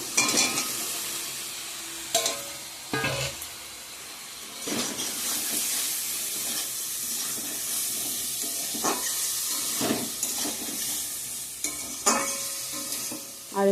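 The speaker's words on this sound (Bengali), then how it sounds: "একটু ভালো করে ভাজা ভাজা করে নিয়ে মশলার সঙ্গে" Potato and pumpkin pieces fry in hot spiced oil in a pan, giving a steady close sizzle broken by repeated scraping and clattering bursts of stirring, with no talking.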